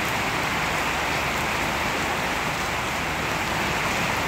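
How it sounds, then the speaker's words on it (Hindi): Heavy rain pours steadily over a Lahore, Pakistan rooftop, a dense, unbroken hiss of drops drumming on surfaces, loud and close throughout with no voices. "तो अल्हम्दुलिल्लाह पाकिस्तान में लाहौर में बहुत ज़बरदस्त बारिश हो रही है"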